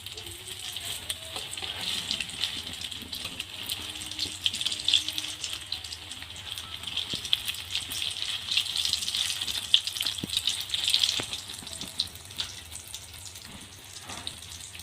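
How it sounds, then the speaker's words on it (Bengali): Vegetable chops fry in hot oil over a high gas flame, a steady close crackling sizzle with bright hissing that runs the whole time, swelling and easing slightly, with a few faint clinks and no talk. "প্রথমে আমি 4টে চপ ভেজে নেব।"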